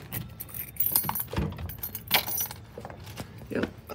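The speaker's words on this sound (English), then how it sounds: "here's the keys. Let's see if it works on this door." Keys jangle and clink as someone tries a key in the front door of a secured building, with metallic rattles and a few sharper clicks over about four seconds of close handling.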